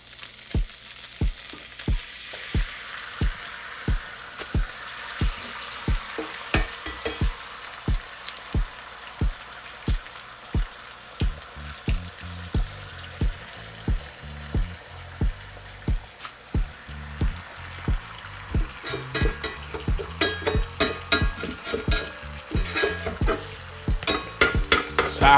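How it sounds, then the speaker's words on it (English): Scrambled eggs fry in sausage grease under a constant sizzle, with regular rhythmic scraping taps of a spatula stirring the pan. The taps grow quicker and busier toward the end, close and loud. "I like mine in the sausage grease. We're going straight in with the eggs."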